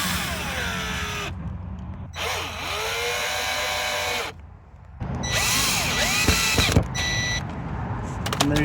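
A power drill driving generic drywall screws into a golf cart body to mount the charge port, three separate whirring bursts that rise and fall in pitch, separated by short pauses.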